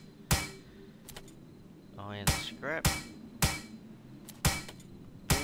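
A hammer repeatedly strikes scrap metal while a car is salvaged in the survival game Plains of Pain, giving sharp, evenly spaced clanks with short ringing pickup chimes in between and one brief spoken word.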